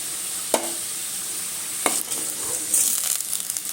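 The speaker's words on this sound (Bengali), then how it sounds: "আলুগুলো আমার ভালো মতো করে ভাজা হয়ে গেছে" Potatoes fry in oil in a pan on a gas stove, the cook preparing a light chicken curry. A steady, soft sizzle runs throughout, broken by a couple of sharp ladle clinks and stirring scrapes.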